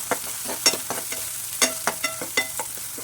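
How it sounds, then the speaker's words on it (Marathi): Cumin, onion, garlic and chopped green peas get sautéed in a pan, with a soft sizzle under sharp, irregular scrapes and clinks of a spoon stirring against the metal, close and clear with no voices. "जिरे चमचा कांदा घालायचा लसूण घालायचा आहे बारीक चॉप केलेला हिरवे वटाणे घालायचे चांगलं परतून घ्यायचं"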